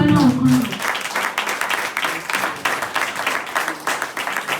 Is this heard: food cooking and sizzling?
no